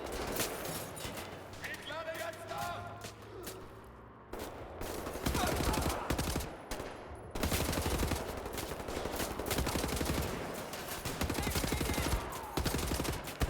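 Moon gun fire in Wolfenstein: The New Order comes as dense, rapid automatic bursts, loud and close, broken by brief pauses and mixed with other game sounds.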